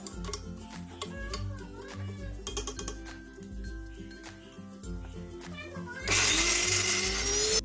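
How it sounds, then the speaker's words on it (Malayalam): A mixer grinder whirs loudly into action, blending peanuts with honey and sugar into homemade peanut butter; the dense grinding roar cuts in abruptly near the end, after background music and talk. "പഞ്ചസാര ഇട്ട് കഴിഞ്ഞാൽ പിന്നെ 2 വട്ടം നമ്മൾ മിക്സി ഓണാക്കി ഓഫാക്കിയും വേണം ചെയ്യാൻ വേണ്ടിയിട്ട്."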